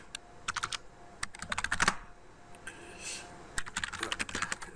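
Keys on a computer keyboard clatter as Cisco 9200 router configuration commands go in, arriving in quick bursts of close clicks split by short pauses.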